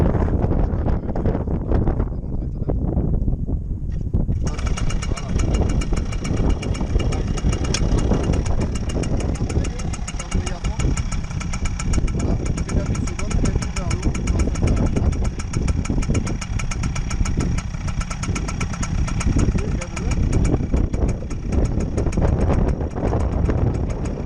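A motorcycle engine starts and then idles steadily, loud and close, with a constant rumble and wind buffeting the microphone throughout.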